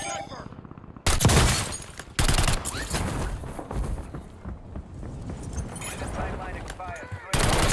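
Video game gunfire from an enemy sniper mixes with bursts of shooting, sharp loud cracks and sustained rattling fire, with radio-style voices talking over the battle noise.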